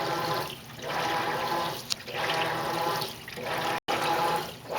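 Water sloshing and churning in a Maytag Centennial MVWC415 high-efficiency top-load washer as it washes clothes, with steady swishing surges repeating about every second and a half and a brief dropout near the end.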